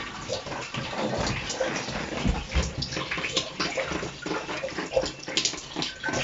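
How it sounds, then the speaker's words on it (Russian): Water runs steadily down the walls inside a run-down residential building used as temporary housing, a continuous rushing, splashing stream like a small waterfall, close and fairly loud throughout. "а просто вода по стенам вот ровно бежит, как водопад везде"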